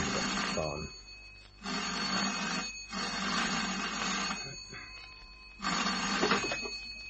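A telephone rings in a radio drama set in a private investigator's office, four loud rings with short pauses between them, heard alone without talk.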